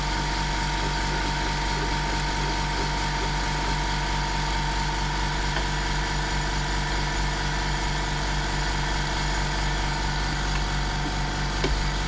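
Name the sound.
air compressor running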